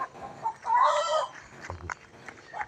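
Temple chickens in the evening at a rural spot in Chae Hom, Lampang, with a rooster crowing nearby and clucking around it, moderately loud, with faint background noises and no speech.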